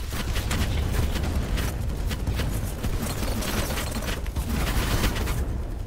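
Dense, continuous bursts of rapid gunfire from the video game Battlebit, loud and close, with overlapping shots and rattling automatic fire throughout.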